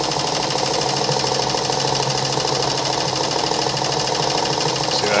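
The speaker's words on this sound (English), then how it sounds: "when you sew through, see the length of the zigzag" A Meister Werke German sewing machine stitching a zigzag, a steady continuous mechanical whirr with fine rapid needle ticking, close and even throughout with no pauses or talk.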